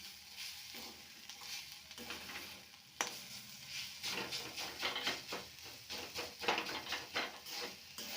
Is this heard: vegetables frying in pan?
yes